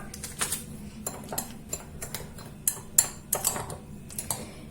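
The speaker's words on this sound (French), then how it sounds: "Je vais commencer par mélanger mon sucre vanillé avec mon sucre." Vanilla sugar and plain sugar being mixed in a bowl, giving a run of light scraping clinks and taps of utensil against bowl at close range, with no talking.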